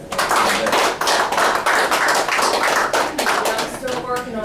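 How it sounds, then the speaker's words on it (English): An audience at a breakfast meeting applauds to welcome a speaker, a close, lively burst of many hands clapping that continues steadily for several seconds. "Let's give her a round of applause."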